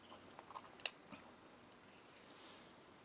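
Crackers from an Italian 2014 combat ration pack are bitten and chewed close up: a few sharp crunches, one especially crisp, then softer, quieter chewing.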